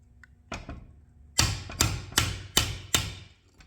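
Sharp metallic hammer strikes on a chisel drive a leaf spring eye bushing into an OBS Chevrolet shop truck spring: two lighter taps, then five evenly spaced heavy blows, close and loud with no talking.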